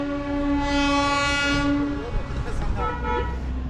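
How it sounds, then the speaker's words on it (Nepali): A Darjeeling railway train sounds its horn in a loud, sustained two-second blast, then rumbles past nearby with rattling wagons while voices murmur in the background. "जनकपुरको ट्रेन है।"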